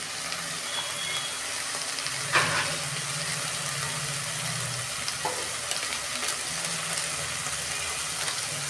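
Spices with chili powder and salt fry steadily in a pan for chicken curry, a continuous close sizzle with a few brief stirring clatters and no talking.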